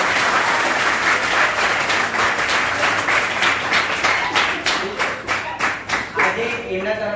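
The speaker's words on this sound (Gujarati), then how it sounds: "તો એક વાર જોરદાર તાળી થઈ જાય ગુરુ" Loud, sustained applause from a school audience at K.B. Parikh High School in Vadodara, broadening into distinct rhythmic claps toward the end as the crowd keeps going for about seven seconds.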